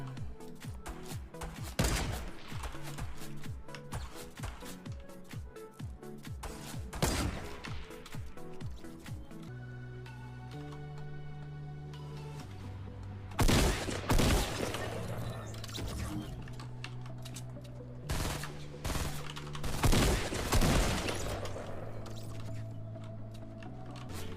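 Gunfire from Fortnite gameplay at a player, with rapid bursts of shots and sharp cracks clustered early and again later, mixed with keyboard clatter, game sounds and voices.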